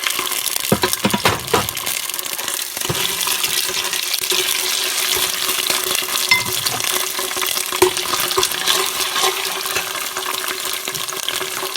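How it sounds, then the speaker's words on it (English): Ketchup going into a spiced sauce in a pan for an Indian spicy potato curry, with steady sizzling and frying hiss and occasional soft stirring and squelching sounds throughout, no talking. "So I'm just going to be putting the ketchup in there."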